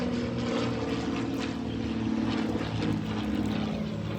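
A propeller airplane flying overhead, a steady, loud droning engine hum filling the whole stretch without pause.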